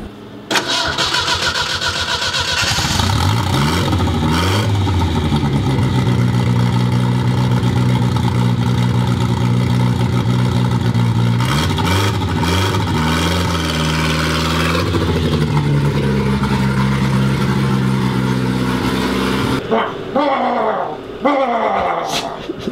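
A turbocharged car engine with a new side-exit exhaust cranks and starts, then revs repeatedly through a loud, raspy exhaust, settling into a rumbling idle before cutting off near the end.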